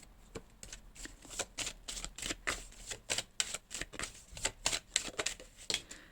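Tarot cards are shuffled and drawn close by, producing a quick series of crisp riffling snaps and papery flicks that come in rapid, uneven bursts. No voice is heard.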